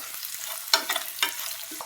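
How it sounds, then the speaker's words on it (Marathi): Onions, green chillies and curry leaves sautéing in a pan for upma, a soft sizzle broken by a few quick scraping stirs of a spatula, close up with no voices. "ह्यात आपण लगेच कढीपत्ता टाकूया आणि याला परतून घेऊयात। आता या सर्व जिन्नसांना परतून घेऊयात।"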